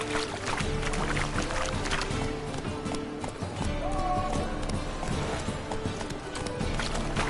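Roach the horse gallops in The Witcher 3, with rapid rhythmic hoofbeats pounding steadily and close, a brief whinny, and game music and ambience layered underneath.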